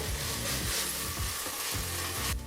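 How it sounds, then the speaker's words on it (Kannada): Ginger garlic paste sizzles steadily in a hot pan for an aloo biryani, a continuous close frying hiss with soft rhythmic scraping from stirring every half second or so. "ಶುಂಠಿ ಬೆಳ್ಳುಳ್ಳಿನ ಪೇಸ್ಟ್ನ ಸೇರಿಸಿ ಒಂದು ಮೂವತ್ತು ಸೆಕೆಂಡ್ಗಳ ಕಾಲ ನಾವು ಫ್ರೈ ಮಾಡಿಕೊಂಡ್ರೆ ಸಾಕಾಗುತ್ತೆ"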